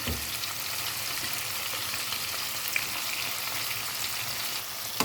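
Escabeche sauce with ketchup and oyster sauce bubbles and sizzles in a pan, an even, continuous hiss close by with a couple of faint clicks from stirring.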